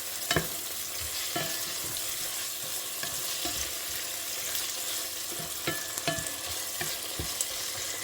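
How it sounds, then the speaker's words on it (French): Lentils with lardons and sausage sizzle and fry in a pan while a spoon stirs, scraping and clinking in irregular knocks over a steady crackle, close and moderately loud with no talk. "On va remuer quelques minutes."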